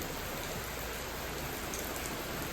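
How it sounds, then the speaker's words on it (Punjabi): Medium rain falls steadily on farm fields, a dense, even hiss of drops close around with no pauses. "ਮੀਡੀਅਮ ਜੀ ਸਪੀਡ ਹੈ ਬਹੁਤ ਵਧੀਆ ਬਾਰਸ ਪੈ ਰਹੀ ਹੈ"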